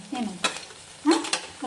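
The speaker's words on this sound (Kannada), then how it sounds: "ಈಗ ಉಳ್ಳಾಗಡ್ಡಿ ಸ್ವಲ್ಪ ಫ್ರೈ ಆಗ್ಯಾವ ನೋಡಿ" Onions, curry leaves and fresh ginger frying in a pan for jhunka, with a few short bursts of sizzling and stirring scrapes, close and moderately loud.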